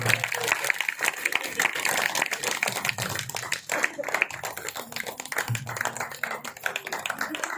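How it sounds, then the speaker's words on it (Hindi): A crowd claps steadily, the applause rising and falling while a voice talks over it. "इनके लिए तो डबल तालियां"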